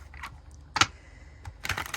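A deck of tarot cards is shuffled in a few short, crisp riffling bursts, quiet and close, with brief pauses between them.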